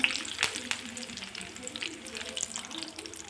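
Curry leaves fry crisp in hot oil for an evening snack, giving a steady crackling sizzle with a few sharper pops near the start.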